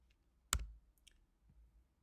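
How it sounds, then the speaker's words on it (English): Single sharp keypress clicks on a computer keyboard, the tab key tapped once clearly and again at the end, with a fainter tap between, in a quiet room. "I'm just pressing the tab key in between all three numbers"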